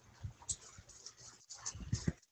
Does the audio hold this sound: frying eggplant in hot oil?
no